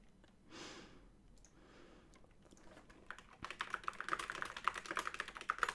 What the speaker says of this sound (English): I hope you enjoy listening to me yap and the keyboard ASMR I'm about to do.